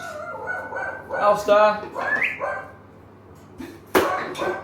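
A household guard dog gives short, close yips and whining barks in a few bursts, with pauses in between and a sharper bark near the end.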